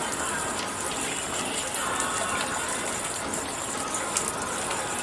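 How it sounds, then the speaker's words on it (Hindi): Steady, continuous monsoon rain falls in the mountains of Pithoragarh, Uttarakhand, a dense even hiss of water with no breaks, close and fairly loud throughout. "ये बिल्कुल झड़ की तरह से पानी आ रहा है"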